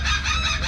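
A flock of birds making a loud racket near a tuna fishing boat, their harsh overlapping calls filling the air up close with no talking.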